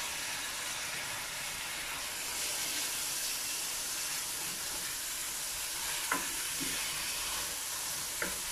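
Chopped tomato hits a pan of curry leaves, whole spices, garlic and ginger for mince curry, giving a loud steady sizzle and frying hiss close by, with a couple of faint clinks near the end.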